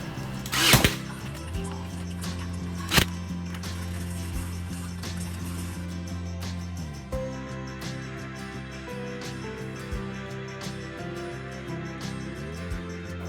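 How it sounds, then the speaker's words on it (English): A nail gun fastens glued wooden decor pieces with two sharp, close snaps about two seconds apart, over a steady electric fan hum in the room. "But I still need my nail gun here"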